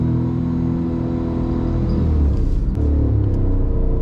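Tata Tiago iCNG running on CNG pulls away in first gear, a steady low engine rumble swelling as the clutch is released and the car moves off, close and continuous with no talk.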